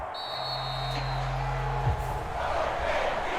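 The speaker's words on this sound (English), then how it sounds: "And the home crowd applauding." Home crowd noise in the Madden NFL 23 football game, a broad steady roar of stadium cheering and applause under a low hum, swelling slightly toward the end.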